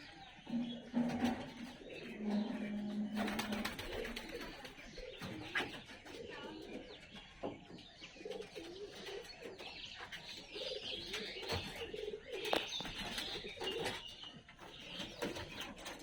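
Pigeons coo softly in low, repeated bursts amid a busy background of chirps and rustling, with a faint voice now and then.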